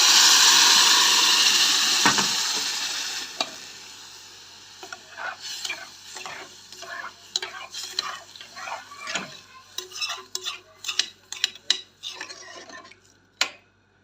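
A spoon stirs koshari lentils in a pot after salt and lentil cooking water are added, giving a loud initial sizzle and then scattered scraping clinks and knocks against the metal in an irregular rhythm.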